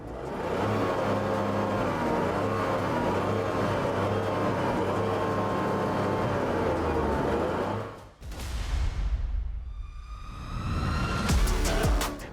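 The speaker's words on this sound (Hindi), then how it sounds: "अब एग्जॉस्ट की बात हो रही है तो साउंड कैसा करता है इसका रेसर अवतार ऑल्ट्रोस का, ही उसको भी सुनते हैं।" A Tata Altroz Racer idles through its dual-tip exhaust with a steady, buzzy hum, then cuts out before a couple of rising revs that climb quickly in pitch.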